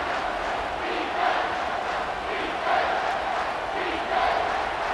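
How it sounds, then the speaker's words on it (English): A college football stadium crowd at Texas versus Michigan roars behind the defense on third down, a loud, continuous wash of cheering that swells in waves. "Decibels rising as the crowd gets behind this defense on 3rd down."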